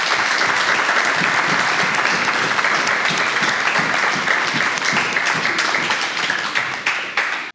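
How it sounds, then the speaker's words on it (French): Loud, sustained audience applause fills the hall for a fighter at an amateur fight tournament's final, dense clapping holding steady for about seven seconds before tapering at the end. "applaudissez-le"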